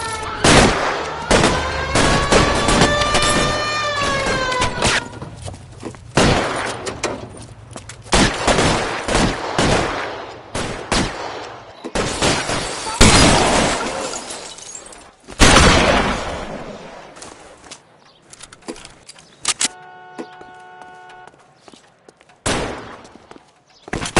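Sharp, loud gunshots and bursts of automatic fire ring out in the video game L.A. Noire, with shattering glass and heavy impacts in irregular clusters and brief lulls between volleys.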